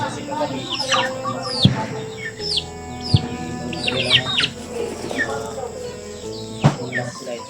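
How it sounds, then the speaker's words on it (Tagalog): Native chickens cluck and chatter close by, with overlapping calls, a few sharp squawks and a busy backyard flock sound throughout. "Mga manok na native."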